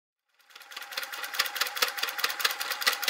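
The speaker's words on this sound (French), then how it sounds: "Et maintenant, on va coudre là, ici, ici et ici." A sewing machine stitches through recycled denim for a pouch, its needle hammering in a fast, steady rapid-fire rhythm that starts after a brief silence and runs close and clear.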